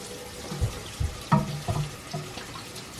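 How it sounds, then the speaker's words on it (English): A kitchen tap runs water into a cooking pot in short, uneven splashing bursts close by, with a steady background wash and no talking. "I'm going to add just a tiny bit more water to this."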